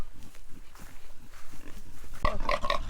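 A stressed pig grunts during show walk training, low snorting grunts scattered through the clip, then a louder burst of harsher squealing grunts near the end, close by with no talk.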